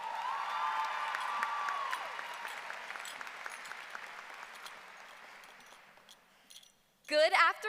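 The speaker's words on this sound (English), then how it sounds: "Give her a round of applause." Audience applause at the Thomas Dale High School Class of 2025 graduation for the salutatorian, steady mixed clapping with a few whoops that fades over several seconds before a voice begins speaking at the end.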